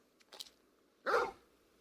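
In Final Fantasy XVI, Torgal the dog gives a faint, short yip. A moment later comes a single louder bark, clear and close, with a little room tail behind it and nothing else in the background.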